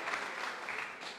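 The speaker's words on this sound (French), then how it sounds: "sous vos applaudissements" Crowd applauding at a Polynesian traditional sports competition, a brief, steady patter of many hands clapping at moderate distance.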